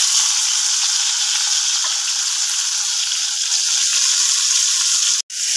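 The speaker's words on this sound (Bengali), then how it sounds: "চিংড়ি মাছগুলো ভেজে নেব।" Prawns frying in hot oil in a wok give a steady, loud, close sizzle that runs almost unbroken, with one sharp click near the end and no voices.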